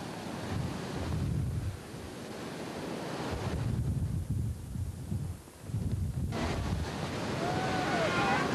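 Wind and sea waves on a beach at a windsurfing event in Mui Ne, Vietnam, with gusty wind buffeting the microphone and surf washing in and out in slow surges, close and loud throughout.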